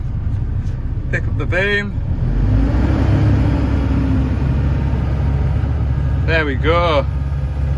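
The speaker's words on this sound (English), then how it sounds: "So start it up. I'll rev it up, look." A loud heavy engine runs steadily throughout, its low rumble rising slightly in the middle as it revs, close by, with someone speaking briefly over it.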